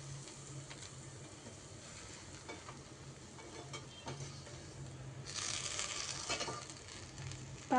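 Veg sandwiches toast on a hot dosa griddle greased with ghee, giving a soft, steady sizzle that swells into a louder burst of frying partway through.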